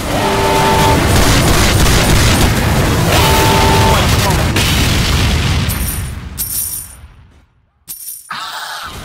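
A bomb blows up in Team Fortress 2's Mann vs. Machine mode: a loud, sustained booming roar fills the first several seconds, then fades into scattered game effects and clanks.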